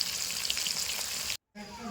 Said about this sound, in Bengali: মাছগুলো আমি খুব সুন্দর করে ভেজে নেবো